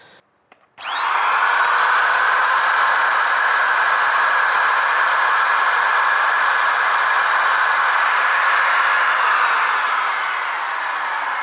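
A DongCheng DMP04-6 trimmer runs with no load on a household supply, spinning up abruptly into a loud, steady high-pitched whine that holds for about ten seconds and eases slightly near the end.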